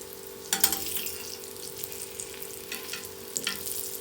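Oil bubbles and sizzles steadily as food fries, with a couple of louder crackling bursts and faint stirring.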